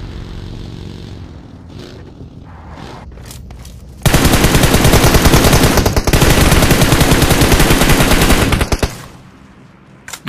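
Gunfire in PUBG Mobile: a few scattered shots, then a long, loud, continuous burst of rapid automatic fire lasting several seconds before stopping, with no talking.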